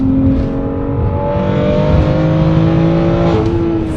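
Modified BMW X3 M engine held at a loud, sustained rev close by, a steady deep drone with a slight pitch shift near the end, no voices over it.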